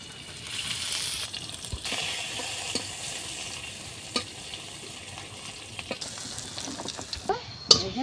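Onions frying in hot oil in a pan for a fish and rice muri ghonto, a steady close sizzle with occasional stirring scrapes and clinks, no talking.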